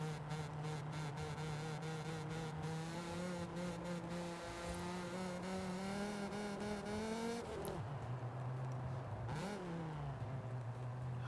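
A car engine drones in the racing video game Forza Horizon 5, with a stock exhaust and no upgrade. The steady tone climbs slowly in pitch as the car accelerates, then dips and recovers during shifts, at moderate, even loudness.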